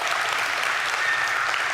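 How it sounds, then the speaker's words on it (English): A church congregation applauds in a brief, steady wash of many hands clapping together, dense and even at moderate loudness with no talk over it. "We applaud there"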